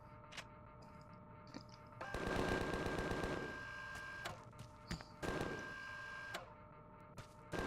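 A spaceship turret in Empyrion Galactic Survival fires 15mm rounds in two rapid, rattling bursts, with scattered single shots and mechanical clicks between, fairly quiet overall.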